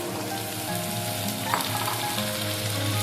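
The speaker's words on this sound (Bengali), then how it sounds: "দিয়ে দেবো কেটে রাখা টমেটো, আমি এখানে 4-5টা টমেটো কেটে নিয়েছি বড় বড় করে, ওগুলো সব দিয়ে দেবো" Four or five large-cut chopped tomatoes hit a frying pan for butter chicken, bringing a steady loud sizzle with a brief stirring clatter partway through and no talking.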